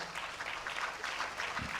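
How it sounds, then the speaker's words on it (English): A rousing round of applause for conferees standing at an evening fellowship conferment ceremony, a steady dense patter of many hands clapping throughout, fairly distant and even in level. "Let us give them a rousing round of applause."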